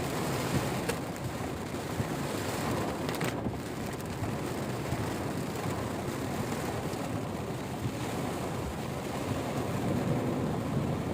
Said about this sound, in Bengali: এখন বৃষ্টির মাত্রাটা আরো বেড়ে গেছে।